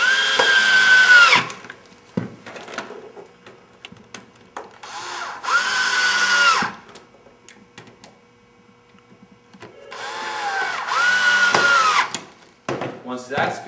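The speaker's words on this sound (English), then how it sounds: "there's going to be 4 screws per side, 2 on the top, 2 on the bottom. And you take your drill." A power drill driving screws into a sign whirs in three bursts of a few seconds each, high and buzzing, separated by pauses with light handling noises.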